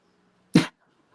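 A dog lets out a single short, sharp snort or sneeze indoors, loud and abrupt against an otherwise quiet room.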